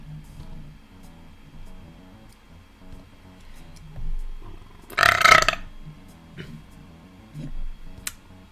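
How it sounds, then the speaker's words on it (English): A single loud burp bursts out near the middle, close and brief, over a quiet indoor background with faint ticking. "Burp snuck up on me."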